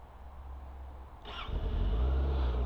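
A 2025 Benda LFC700 motorcycle engine idles low, then starts or picks up about halfway through and settles into a louder, steady rumble close by.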